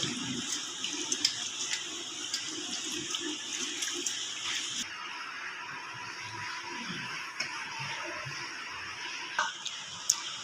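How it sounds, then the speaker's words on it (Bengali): A hand swishes and stirs salt into water holding soaked potatoes, a soft continuous watery churning close by with occasional small splashes and no talk. "হাত দিয়ে এভাবে দু তিন মিনিটের মতো নুনটাকে ভালো করে মাখাবো জলের সঙ্গে"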